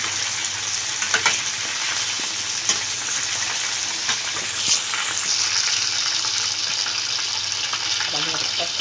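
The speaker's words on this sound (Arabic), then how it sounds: "هنحمر كل اللي عندي بنفس الطريقه" Pieces of homemade Kentucky-style fried chicken sizzle steadily in hot oil, a continuous broadband crackle with small pops, with a few faint clinks from a utensil stirring and no talking.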